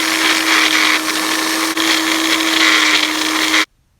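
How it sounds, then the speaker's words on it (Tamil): A mixer grinder whirs loudly and steadily for a few seconds while grinding aloe vera into a paste, with one brief dip, then switches off abruptly into silence. "கற்றாழையை மிக்ஸி ஜாரில் போட்டு நல்லா மைய அரைச்சிடலாம்."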